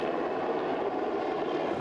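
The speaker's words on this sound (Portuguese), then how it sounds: "A mega-operação foi monitorada por um helicóptero." A helicopter flies over a large military and police operation at a prison, its steady rotor and engine drone holding at an even, moderate level throughout with no speech.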